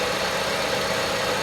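A car engine idling with the air conditioning and cooling fans off, a steady, even hum with no change across the short stretch.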